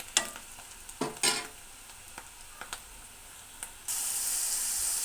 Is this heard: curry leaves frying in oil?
yes